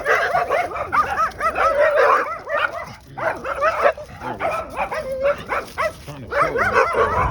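A small dog in a garden barks and yips excitedly in rapid, nearly continuous bursts, loud and close, with short whimpering notes mixed in.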